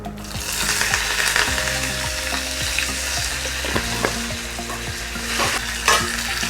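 Dried red chillies and curry leaves fry with mustard seeds in hot oil for a pumpkin and bean erissery, giving a loud, close, steady sizzle with repeated scraping strokes of a spoon against the pan.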